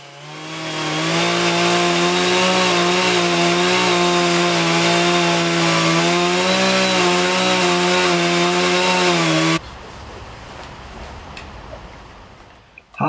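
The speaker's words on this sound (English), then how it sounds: "Here we are using a steel 660 with a 36 inch bar and a special chain called a rip chain, which is used for doing parallel milling cuts." Stihl 660 chainsaw fitted with a 36-inch bar and rip chain, milling a log lengthwise: a loud, steady high-revving whine held for about nine seconds, then cutting off abruptly to a quiet rustle.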